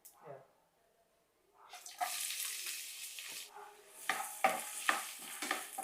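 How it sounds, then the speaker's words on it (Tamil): Onion hits hot oil already holding cinnamon, cloves and fennel seeds for a chicken masala gravy, bursting into a loud sizzle after a quiet start, with stirring scrapes punctuating the crackle. "வெங்காயம் கொஞ்சம் நல்லா வதங்கி வரட்டுங்க"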